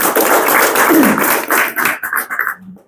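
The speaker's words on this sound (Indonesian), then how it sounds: "Ya, tepuk tangan buat semuanya." An audience at a party meeting applauds in a dense burst of clapping that fades out within about three seconds, with a little voice mixed in.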